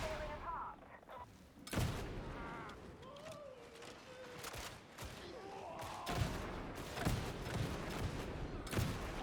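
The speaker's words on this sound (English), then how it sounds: "I love the shotgun." Shotgun blasts in the video game Warhammer 40,000: Darktide, a series of sharp, heavy booms at irregular intervals over a busy, fairly quiet game soundscape with a voice talking.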